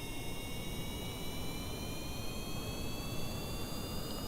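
Jet-like engine roar in Kerbal Space Program, a steady, dense whine and rumble holding at an even loud level throughout with no voices.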